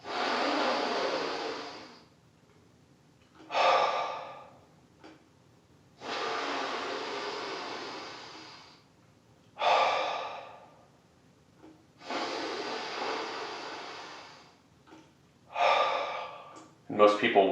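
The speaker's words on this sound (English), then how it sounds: "hold it for about a second at the top, and exhale it as quickly as possible out of your mouth" Deep yoga breaths, each a long loud exhale forced quickly out through the mouth, alternating with shorter sharp inhales; several close-up cycles repeat at an even pace with no other sound.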